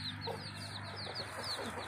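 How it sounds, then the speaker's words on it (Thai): A black hen with her many chicks clucks and cheeps in a farmyard, soft repeated peeping calls layered over low steady clucking, close by and continuous. "นั่นก็เป็นแม่ไก่ดำเลี้ยงลูกๆมันก็เยอะมาก"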